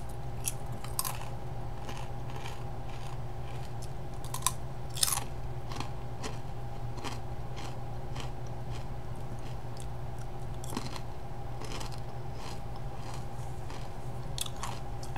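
Spicy habanero-flavored ridged potato chips being chewed up close, a run of crisp crunches and bites scattered over a steady low background hum, with no talking.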